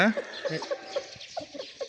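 Chickens and chicks cluck in short, close bursts, with soft chirps and faint background talk scattered through the brief stretch.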